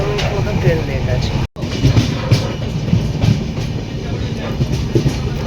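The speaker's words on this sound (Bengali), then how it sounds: "আমরা মুর্শিদাবাদ জাংশন ঢুকছি আর ট্রেন মোটামুটি 13-14 মিনিট লেট হয়ে গেছে এখন।" The Kol Sairang Express rolls into Murshidabad Junction with a steady rumble of rail wagons and rhythmic clickety-clack of wheels over the tracks, loud and close from on board.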